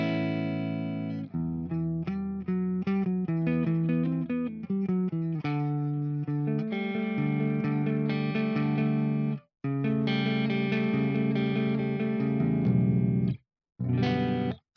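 An electric guitar plays through an Invaders amplifier on its clean channel, ringing chords and single notes with sustained bright tones, stopping briefly twice before resuming.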